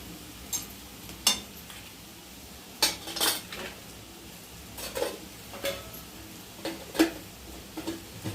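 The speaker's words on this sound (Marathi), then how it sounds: "हे छान हलवून एकजीव करायचं" Okra being stirred in a pan with turmeric and coriander powder, a spoon scraping and clinking against the metal in irregular bursts over a low background, no talking.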